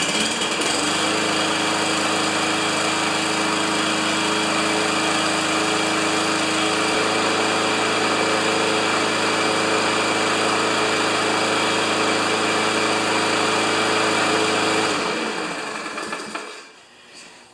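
A small Remington lawn mower with a 140cc engine runs at a steady, loud idle with a constant buzzing drone for about fifteen seconds, then winds down and cuts off near the end.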